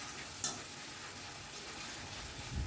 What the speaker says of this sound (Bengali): সব কিছু ভালো করে মিশিয়ে নিয়ে মশলাটা কিন্তু কষিয়ে নিতে হবে